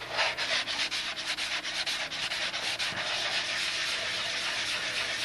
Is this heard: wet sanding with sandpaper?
yes